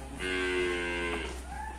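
A cow lets out one long, loud moo, close by, ending with a softer trailing tone against a quiet background.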